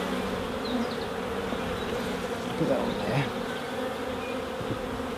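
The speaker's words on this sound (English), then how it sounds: "You see the amount of bees that are in here, there's quite a few, isn't there?" Honey bees in an open brood box during a UK hive inspection, a dense close buzzing swarm drone throughout, with someone speaking briefly over it.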